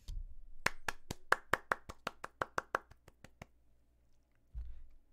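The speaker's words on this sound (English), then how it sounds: "Clap." Hand clapping: about fifteen crisp, evenly spaced claps, close and fairly loud, slowing slightly and fading at the end, with a low rumble before and after.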